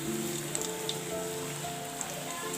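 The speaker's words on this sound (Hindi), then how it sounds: "हम तमाम समोसों को फ्राई करेंगे।" Potato samosas deep-frying in a pan of hot oil give a steady, dense crackle and sizzle, close and continuous with a few sharper pops and no talking.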